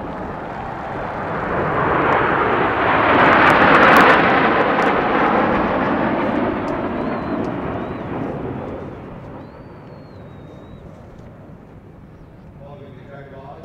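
Jaguar military jets fly past at the 2020 Republic Day Parade, a loud roaring swell that peaks early with a sweeping pass, then fades into a lingering distant rumble.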